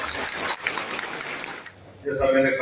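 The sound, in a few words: audience applause welcoming a speaker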